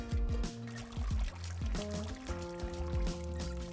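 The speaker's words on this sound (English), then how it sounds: "Let's pour the rest of the drink over the bubbles and see what happens." An espresso martini cocktail is poured over coffee and tonic water, a steady liquid pour close by that runs in several gurgling surges with no talking.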